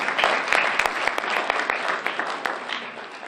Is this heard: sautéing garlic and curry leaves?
no